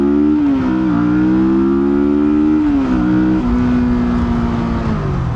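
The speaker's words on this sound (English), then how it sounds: "now let's look at what 650 looks like accelerating" A 650 motorcycle accelerates hard and loud, its engine climbing in pitch through several gears with brief dips at each shift, heard up close with no talking.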